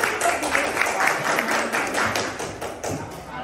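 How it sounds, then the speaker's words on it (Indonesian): A classroom of students applauds a student group after its physics presentation, with dense, lively clapping that stays fairly loud and steady before thinning slightly toward the end. "Tepuk tangan untuk kelompok dia."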